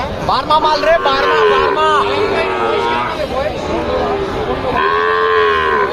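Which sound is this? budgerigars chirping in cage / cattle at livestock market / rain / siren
cattle at livestock market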